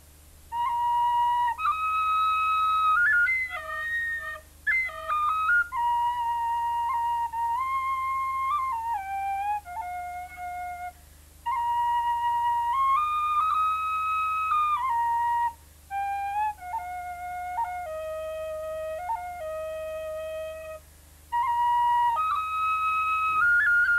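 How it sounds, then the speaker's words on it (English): A tin whistle plays a slow Irish air solo, with long held notes, gentle ornaments and short pauses between phrases, clear and close over a faint steady hum in the room. "going to play a few tunes on the tin whistle"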